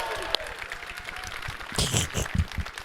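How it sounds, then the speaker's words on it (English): Light, polite clapping from a small audience at an AMD E3 press event, a brief scattered patter that swells near the end. "More golf clapping."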